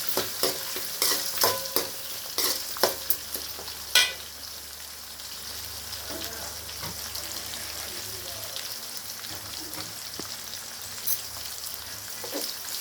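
Onions sauté in oil in a pan with a steady, rain-like sizzle, and clattering stirring strokes are sharper early on; a voice speaks faintly.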